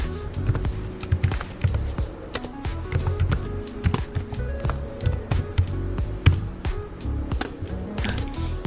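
Rapid clicking keystrokes on a computer keyboard entering a route print command, steady bursts of close, crisp taps with brief pauses, no talk.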